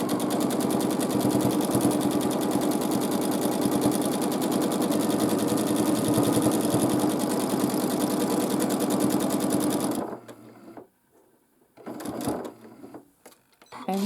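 A sewing machine runs steadily for about ten seconds while free-motion quilting a large quilt, its fast even stitching rattle loud and close, then stops, leaving faint handling noises.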